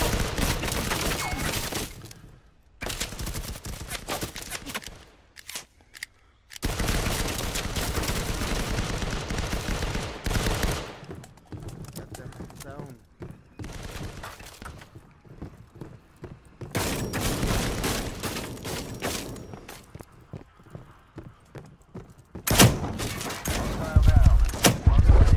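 Shotgun and other gunfire in a Call of Duty match on a catwalk, repeated heavy shots and bursts in dense clusters with brief pauses, loud and close throughout.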